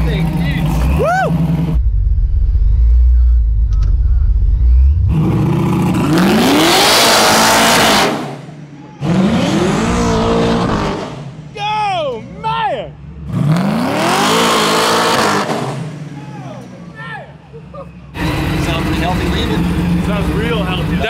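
A 1000hp all-wheel-drive carbon fiber Cutlass launches hard, its engine roaring and revving loudly through repeated rising bursts and gear changes. Excited people talk and shout over it throughout.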